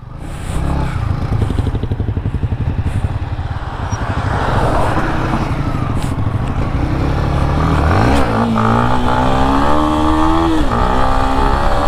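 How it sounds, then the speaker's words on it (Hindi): Yamaha MT-15 motorcycle engine revving hard during a wheelie: a loud, close, throbbing engine note that climbs in pitch midway and holds a rising, strained whine toward the end. "देखो भाई कितनी अच्छी व्हीली जा रही है।"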